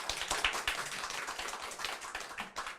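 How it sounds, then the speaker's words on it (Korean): Audience applause at a book launch forum, a moderate wash of scattered hand claps from a small crowd, steady and fairly close throughout. "박수 한번 보내주세요."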